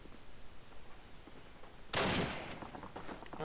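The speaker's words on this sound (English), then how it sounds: "And the nades are coming now" A single sharp grenade blast in Call of Duty on the railyard map, sudden and fairly loud, followed by a short ringing tail over quiet background noise.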